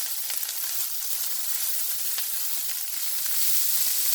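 Green chillies frying in hot oil in a pan for egg fried rice, a loud continuous close sizzle with faint stirring scrapes and no talk.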